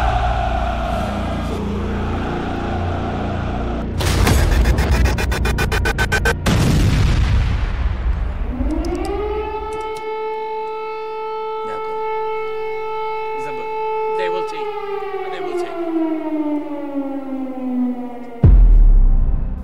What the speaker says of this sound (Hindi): कीव में बजा सायरन